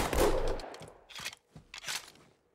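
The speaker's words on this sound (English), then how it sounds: "Keep calling it a pistol, I'm sorry. It's a Magnum." A .50 cal Magnum pistol in Halo 2 Anniversary fires a loud shot, and a few sharper, quieter shots follow, each spaced about half a second apart, then fade out.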